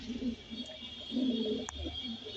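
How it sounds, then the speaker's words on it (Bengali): Male racing pigeons give soft, low cooing calls up close, a few throaty murmurs over a quiet steady background hum. "এটা নর কবুতর"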